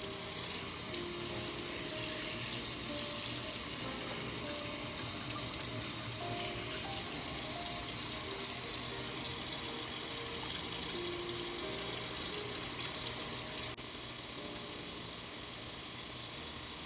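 Hands are washed under a running kitchen tap, a steady, even rush of water that stays constant throughout with no speech over it.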